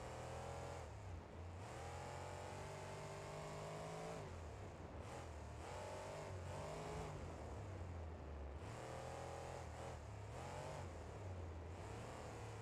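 A monster truck engine in BeamNG.Drive, fitted with a normal exhaust, revs repeatedly with a low droning note rising and falling in several surges, loud and steady throughout with no talk.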